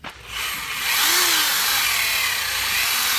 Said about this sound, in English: A little bit more with the rougher sandpaper.